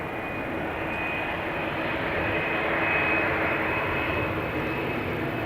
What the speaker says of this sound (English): Embraer 190 going to Game of Thrones, or Göteborg